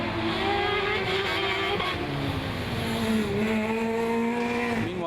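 Formula Student race car lapping a skidpad course at Formula Student Germany 2016, its engine holding a steady, loud high-revving drone with gear-like pitch shifts throughout, tyre noise mixed in.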